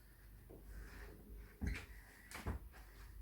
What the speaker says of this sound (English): should be able to close the door